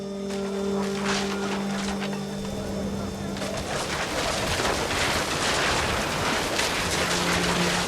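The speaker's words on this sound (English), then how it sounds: "Rain came down in buckets then" Heavy, steady rain in the video game What Remains of Edith Finch pours down in a dense hiss that fills the whole clip, with a low tonal hum underneath and no voices.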